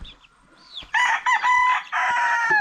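Farm chickens, about a month old, crow and cluck in a run of loud, close calls. The calls come in bursts over quiet ground.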